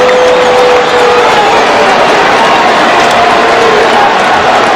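Baseball stadium crowd roaring steadily in disapproval at umpire Angel Hernandez's call during an MLB game, a dense, loud wash of voices with no pauses, with a faint whistle-like tone early on.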